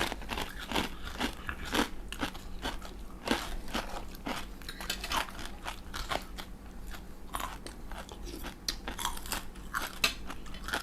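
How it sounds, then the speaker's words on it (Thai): Crunchy pork cracklings being bitten and chewed close up, a steady run of sharp crisp crunches repeating for about eleven seconds with no talking. "ไม่ต้องกลัวติดคอนะเพราะกากหมูองเรากรอบ"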